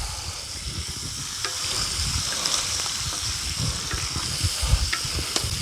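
Bacon strips and sausage fry on a disc over an outdoor campfire, giving a steady close sizzle with crackling pops throughout.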